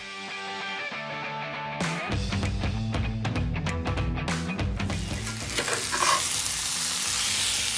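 Chicken being stirred and mixed with chili, coriander, turmeric and cumin powder in a hot pan, a steady sizzle of frying with repeated scraping and clattering stir strokes, close and continuous, with no talking.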